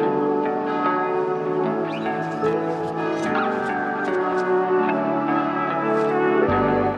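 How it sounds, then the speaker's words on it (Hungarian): Church bells ring continuously, a dense layered chime with sustained overlapping tones, steady and fairly loud throughout with no talk. "Még mindig harangoznak"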